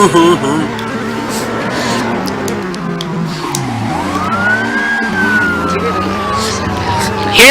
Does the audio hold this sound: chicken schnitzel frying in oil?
no